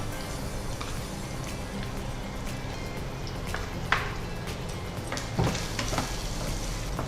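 Fried rice with sauces and masala sizzles in a hot pan over a high flame, a continuous quiet frying hiss with scattered scraping stirs and occasional clinks.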